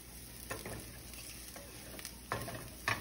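Scallions, onion and garlic sizzling in a pan, a soft, faint fry with a few scraping stirs of a utensil, close by and without talking.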